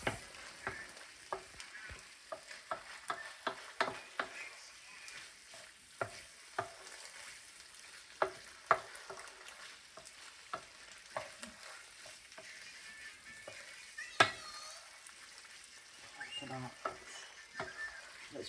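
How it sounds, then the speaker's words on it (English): Drained pasta and broccoli stirred through a hot pan for a HelloFresh meal, giving a steady sizzle under repeated scraping and clattering strokes of a utensil, close and fairly loud, with no talking. "we're just going to add in our drained pasta and broccoli. Smells so good. Give it all a nice good mix."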